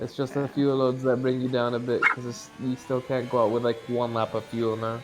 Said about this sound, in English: I'm sorry for the dog barking in the background.